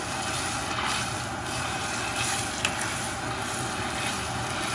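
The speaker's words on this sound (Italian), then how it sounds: "inseriamo la zeppolina nell'olio" Zeppola batter with zucchini flowers sizzles in hot oil, a dense, steady frying crackle that carries evenly with a faint low rumble beneath it.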